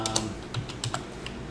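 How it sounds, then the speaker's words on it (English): A run of quick, close key clicks on a computer keyboard as a command is typed into a console. The taps are uneven and light, with a couple of slightly louder strokes. No voice is heard. "we'll go ahead and type in CLS, which clears the screen"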